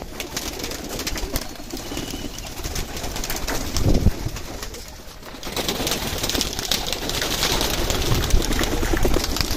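A large flock of pigeons on a rooftop pigeon setup in Kashmir, soft cooing and fluttering over steady ambient noise with a faint engine, fairly constant in level throughout.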